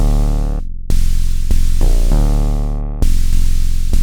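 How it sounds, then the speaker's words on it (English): Loud electronic synthesizer drum sounds from a Moog Labyrinth, with abrupt cuts and punchy hits, a few sustained buzzy notes broken by sudden drum-like attacks. "It can be used as a standalone synth to make things like quirky sequences"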